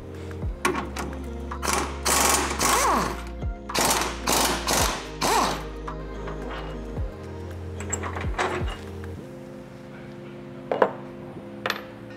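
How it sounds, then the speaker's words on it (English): Impact wrench breaking bolts free on a 2022+ Toyota Tundra frame, several loud rapid hammering bursts with a steady motor hum between them, then quieter clanks near the end. "So I'm gonna go ahead and use an impact."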